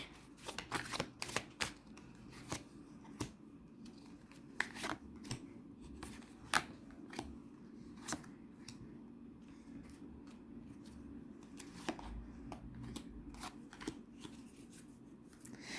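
Tarot cards are shuffled and laid out by hand in a run of crisp, close snaps and riffles, loud at first and then settling into lighter, spaced flicks as the cards go down.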